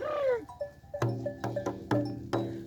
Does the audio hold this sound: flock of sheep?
yes